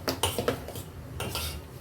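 A spoon stirs ready-made idli batter in a bowl, giving a few close clinks and scrapes against the sides, then a softer swirl, with no talking.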